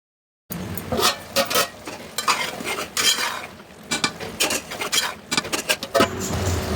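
Tomatoes are stirred and fried in a pan for Telugu tomato radish curry, with a spoon scraping and clattering in bursts over a soft background sizzle, close and alone.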